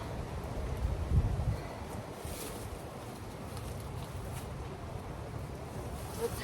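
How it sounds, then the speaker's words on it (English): Wind blows around a chicken yard, a low, uneven rumble and buffeting that gusts most strongly near the start and then settles into a steady rough blowing with no voices. "I know the wind is bad"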